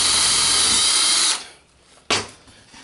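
Power drill boring a hole through stock held against a pivot hole in a scissor mechanism template, a loud steady whine for over a second, then a stop, quiet, and a short sharp burst as the bit restarts briefly.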